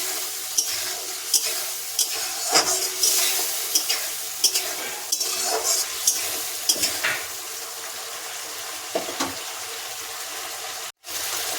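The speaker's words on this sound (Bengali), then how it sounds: "তো এটাকে ভালো করে কষে নিতে হবে যতক্ষণ না তেল ছাড়বে।" Mustard and poppy seed paste with green chillies fries in a pan for a rui fish curry, with a soft sizzle throughout. A spatula scrapes and taps the pan in irregular, close strokes.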